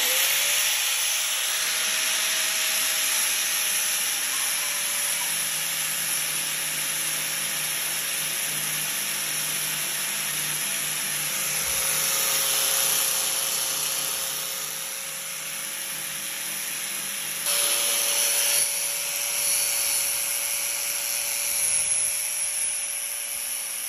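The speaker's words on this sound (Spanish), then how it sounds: "aquí vamos a prender la pulidora" An angle grinder cuts metal for a homemade spoon used to trim nopal cactus pads, giving a steady, sustained high-pitched whine and hiss that runs without a break, with a slight dip midway.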